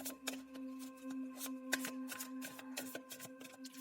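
Tarot cards being shuffled and handled during a card reading, a close, quiet run of crisp riffling flicks and slaps repeating steadily over a faint constant hum, with no talking.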